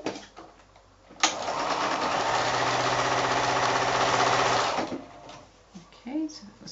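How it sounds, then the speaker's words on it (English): An electric sewing machine runs steadily for about three and a half seconds, stitching 5-inch quilt squares for a Shoo-Fly block, with a close, loud, even whir that starts and stops sharply and quieter handling sounds on either side. "I'm going to pick up the top one and sew it onto the next one"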